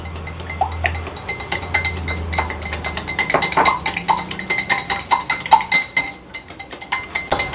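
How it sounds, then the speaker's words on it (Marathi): Two eggs whisked in a bowl, a rapid run of light metallic clinks and taps against the bowl, busy and close, with a low hum underneath early on and no talking. "दोन अंडी जी घेतली आहेत आपण ही अंडी आपण फेटून घेणार आहोत"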